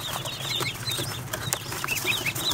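A mixed flock of farm ducks, including fawn and white Indian runners, with a few goslings, gives repeated short quacks and chirping calls close by, overlapping in a busy, continuous outdoor chorus without speech.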